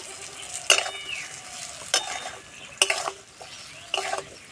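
Winter vegetable pickle with spices is stirred in a hot pan off the flame. A metal spatula scrapes and clinks against the pan in four distinct strokes over a faint background sizzle, close and unaccompanied by talk.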